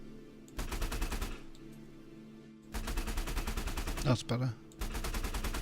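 A Kestrel ship's weapons fire in Elite Dangerous, rapid evenly spaced mechanical bursts in two long strings with a pause between, loud and close, while someone speaks briefly over the shooting.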